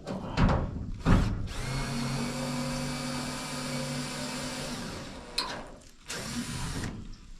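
A handheld power drill whines steadily for about four seconds while working on a grain silo chicken coop, framed by clattering handling noises before and after.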